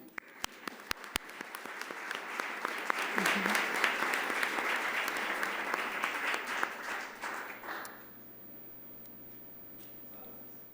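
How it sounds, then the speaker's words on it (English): A few isolated claps swell into full audience applause at a panel discussion that holds for several seconds, then drops away abruptly, leaving faint room noise and a stray clap. "I think that's a round of applause"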